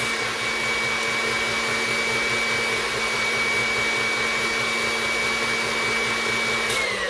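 A stand mixer whips heavy cream and sugar with a steady, even motor whir, constant in level and close, with no talk over it.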